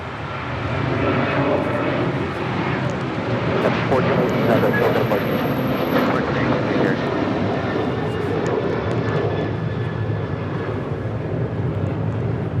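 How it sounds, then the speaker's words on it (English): An Alaska Boeing 737-900ER in oneworld livery departs Los Angeles International Airport for Guadalajara, its jet engines a broad roaring rumble that swells to a peak midway and then slowly fades, with a thin high whine on top. "1418 departing to Guadalajara on a 737-900 ER in the One World livery"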